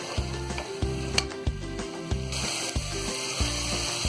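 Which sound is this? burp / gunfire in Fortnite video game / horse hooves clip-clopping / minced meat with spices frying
minced meat with spices frying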